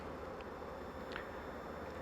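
Low, continuous hum of honey bees buzzing in an overcrowded, congested hive during an inspection, with a few brief louder passes of individual bees near the listener.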